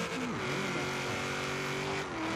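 The Knight Rider KITT car races in Forza Horizon 3, its engine revving loud and close with shifting pitch and brief tire squeal, steady throughout with no talk.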